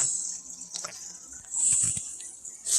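An aquarium's bubbling bridge ornament gives a soft, steady fizz of bubbles with faint watery trickles and small pops, close and quiet.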